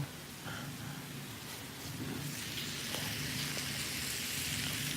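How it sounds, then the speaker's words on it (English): Steady rain falls outside a garage during a hurricane, a constant soft hiss with faint pattering drops and no voices. "Oh yeah, it's raining. It's definitely raining."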